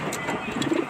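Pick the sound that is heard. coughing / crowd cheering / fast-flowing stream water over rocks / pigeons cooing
pigeons cooing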